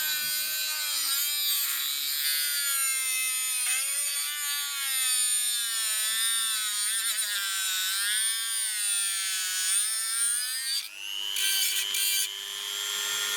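A Tilswall 160W rotary multi tool cuts or grinds metal with a continuous high-pitched whine, its pitch wavering with load, then rising sharply near the end as the load comes off; close and loud, with no talk.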